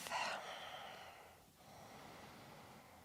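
Slow yoga Ujjayi breathing, a single audible breath that starts stronger and fades into a soft, steady airy hiss, close and quiet with no talking.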